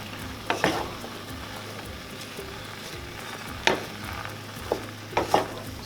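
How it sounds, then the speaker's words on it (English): Bell peppers and other vegetables sizzle and stir-fry in a pan for vegan rasta pasta, with occasional clanks and scrapes of a utensil against the pan. "So we basically stir frying the vegetables."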